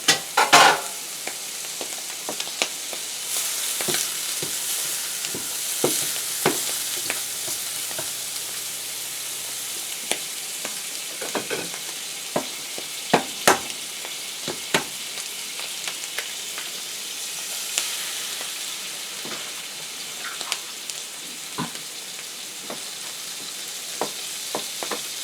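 Eggs frying in a little butter in a pan at a homestead breakfast stove, a continuous close sizzle punctuated by frequent sharp spatula scrapes and taps, heard alone for a long stretch without talking.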